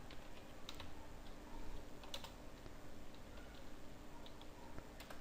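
Quiet keystrokes tap on a computer keyboard in a brief burst of typing, a few faint clicks over a steady low room hiss.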